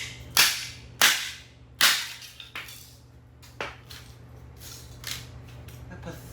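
A VTech cordless phone being smashed apart, with several sharp cracking impacts early on, then fainter clatters and snaps of plastic pieces, close and spaced a second or so apart.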